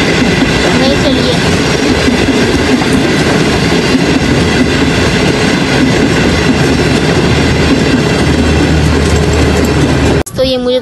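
A new train in Pakistan rolls past up close, a loud, steady rumble and clatter of wheels filling the whole stretch before cutting off abruptly at the end.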